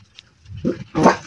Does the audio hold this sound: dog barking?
yes